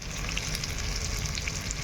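Tomatoes and spices fry in a pan as the base for a fish curry with cauliflower, giving a steady, close, loud sizzle that runs unbroken and alone, with no talking.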